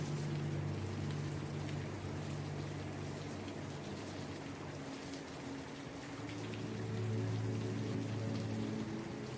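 Steady rain falls throughout, a continuous soft hiss of drops on surfaces with a low, even rumble beneath, with no voices.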